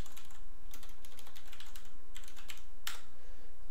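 Someone types on a computer keyboard, producing scattered bursts of quick, light key clicks and one sharper tap near the end, close up and fairly quiet against a faint room hum.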